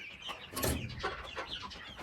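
Chickens cluck in a short burst of several irregular calls, fairly faint against a quiet farmyard background with no talking.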